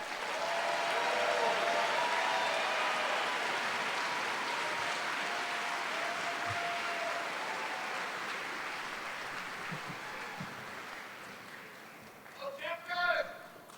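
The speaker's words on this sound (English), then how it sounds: "Let's have a round of applause for all these graduates" Audience applause at a College of Natural Resources spring graduation ceremony, a broad, steady wash of clapping from a large crowd that gradually thins, with a voice speaking near the end.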